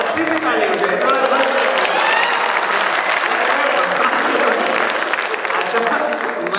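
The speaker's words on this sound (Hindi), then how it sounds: "अच्छी सी ताली हो जाए थोड़ा।" An audience at a poetry gathering (kavi sammelan and mushaira) claps in loud, sustained, dense applause, with voices mixed in.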